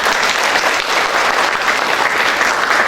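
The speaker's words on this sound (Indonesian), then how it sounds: "Kita berikan tepuk tangan." Mourners applaud at a church funeral and casket-closing service in Lawang, Indonesia, with loud, sustained clapping from a large congregation that fills the hall evenly throughout.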